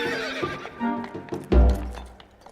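Two small local horses carry riders through woodland, hooves clip-clopping in an uneven walking rhythm before one horse lets out a loud, close whinny and snort.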